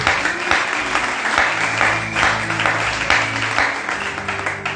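A church congregation applauds and cheers joyfully for Jesus, sustained dense clapping from a crowd filling the room at steady loudness throughout, with faint voices mixed in.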